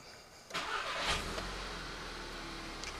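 A 2013 VW GTI with a newly fitted Unitronic TSI cold air intake cranks and fires up, a short starter whir followed by the engine catching and settling into a steady idle, heard close with no voices.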